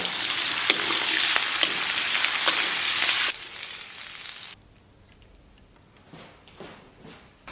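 Chili peppers and cured pork stir-fried in hot oil with ginger, garlic, dried chilies and Lao Gan Ma sauce, a loud close sizzle with spatula scrapes that drops off abruptly to quiet clinks.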